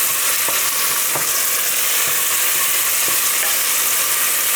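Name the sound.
freeze-dried mushrooms sautéing in a pan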